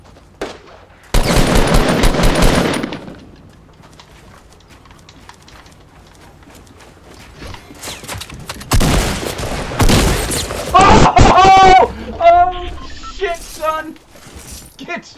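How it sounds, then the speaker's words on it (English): Gunfire in an online shooter video game, bursts of rapid shots arriving in loud clusters with quieter gaps between, some sounding sharper and others more distant. "someone's shooting from far away"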